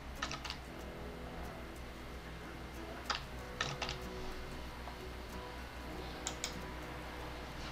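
Quiet, irregular clicks of typing on a computer keyboard come in short bursts over a steady low electrical hum, as text is entered in an office auditing software module.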